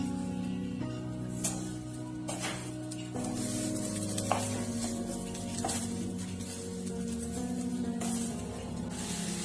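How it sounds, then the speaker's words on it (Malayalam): Grated coconut and sugar are mixed in a pan with a soft sizzle and rhythmic scraping strokes repeating every second or two, set against a quiet sustained musical background. "നന്നായി ഒന്ന് മിക്സ് ചെയ്ത് കൊടുക്കാം."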